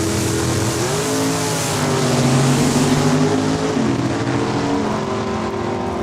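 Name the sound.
drag race cars launching down the strip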